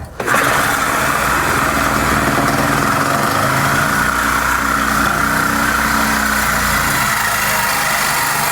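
A Sawzall reciprocating saw cuts through the exhaust pipe of a 1997 Ford Mustang Thunderbird Super Coupe near the muffler, a loud, steady, continuous buzzing drone that starts abruptly and runs unbroken, close up, with no talking.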